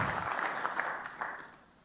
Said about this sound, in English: That's a clap for Ari.